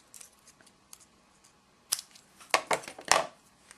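Scissors cutting card paper for a Halloween slider card: a few sharp, close snips, faint at first and then a quick cluster of louder crisp cuts, with no voices.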